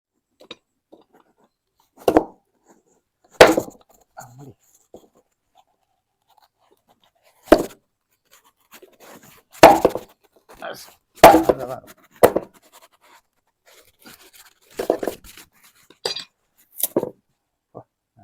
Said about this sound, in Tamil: அதில் பூசணிக்காய் வெட்டிடும்.